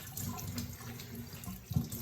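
Water is wrung from a wet cloth in a short trickle and splash, faint and close, with a small drip near the end.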